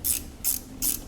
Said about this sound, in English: If you have a ratchet spanner, better again.